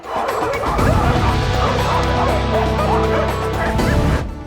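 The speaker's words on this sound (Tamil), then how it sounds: "அதிகாலையில் குறைத்த நாய்கள்" Several dogs bark and yip at dawn in a small village, loud and close with overlapping barks and whimpers in a continuous burst.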